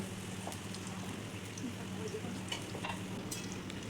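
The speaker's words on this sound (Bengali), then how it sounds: "তেলের মধ্যে আমি একে একে সমস্ত বড়াগুলো দিয়ে নেব। তারপরে খুব ভালো করে এপিট ওপিট লালচে করে ভেজে নেব।" Drumstick flower fritters deep-frying in hot oil, a steady soft crackling sizzle throughout with faint bubbling pops.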